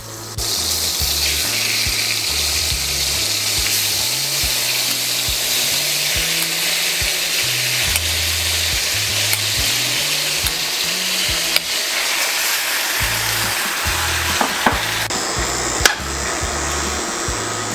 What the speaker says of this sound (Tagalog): Lagay din po tayo ng oil para hindi masunog ang ating butter. Sunod po natin ang ating pork.